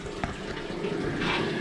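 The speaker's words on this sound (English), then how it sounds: "you can hear the water running down here into an underground little river" Water runs and trickles into a small underground river inside a cave in the Yorkshire Dales, a faint, steady flow heard from nearby with no voices.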